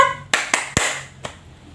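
A primary school class doing the tepuk lipat clap chant, four sharp claps in an uneven rhythm, fairly close and loud, with the last one softer, no talking over them.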